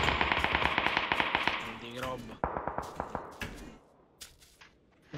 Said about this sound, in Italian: Mi avvicino mentre sparano